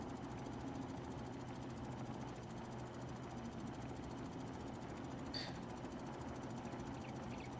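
A tractor engine idles steadily in the farming video game Farming Simulator 22, a low, even mechanical drone that holds without change throughout, with no voices.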